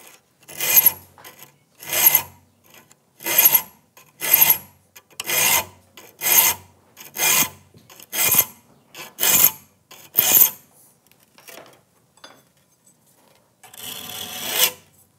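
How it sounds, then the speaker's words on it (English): A hand file rasps across the teeth of a rip saw being sharpened, in about ten steady, evenly spaced strokes, loud and close, then one last longer stroke after a short pause. "When you file a saw, you're creating a burr with the file."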